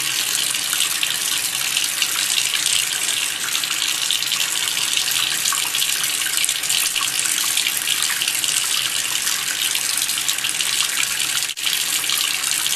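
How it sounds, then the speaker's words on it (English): Makeup sponge rinsed and squeezed under a running tap, a steady loud gush of water into a sink with slight splashing changes, continuous and close. "And then I'll get the sponge wet again and just kind of work that soap into the sponge"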